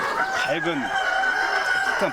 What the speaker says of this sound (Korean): 수탉과 암탉이 자유롭게 돌아다니고 유정란을 낳는 양계장